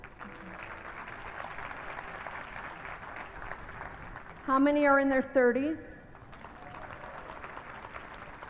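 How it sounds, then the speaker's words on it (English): An audience at a business talk gives a soft, sustained round of applause. A speaker's voice briefly rises over it, then the clapping continues quietly. "by applause, how many people are in their 20s?"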